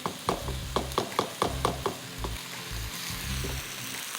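Masala stir-fried in a pan with a spatula, sounding as a run of rhythmic scraping strokes roughly twice a second over a constant close sizzle, then a few slower strokes; no talking.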